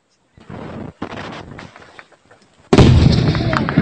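Short burst of automatic gunfire during a battle in Shirokino, Ukraine, loud and close, breaking in sharply after scattered shouting and nearby noise, then continuing as a dense roar.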